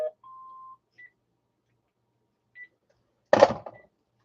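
A landline telephone gives a few short, thin beeps with long silent gaps between them, followed by a brief louder clunk near the end.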